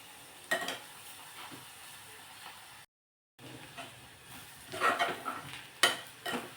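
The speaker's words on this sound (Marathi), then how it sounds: "आता एक दोन तीन मिनिटं व्यवस्थित असं परतून घेणार आहोत आपण" Ground green chilies sautéing in a pan for masale bhat, with a low sizzle and several bursts of stirring and spoon scrapes. Near and moderately loud, with a brief silent break partway through.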